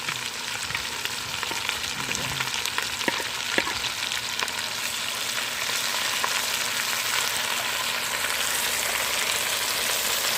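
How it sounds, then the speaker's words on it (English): Red onions sizzle steadily in a hot pan for a country pork breakfast, a constant close frying hiss with occasional clicks and scrapes from a wooden spoon stirring, no talking. "Get these all nice and sauteed up."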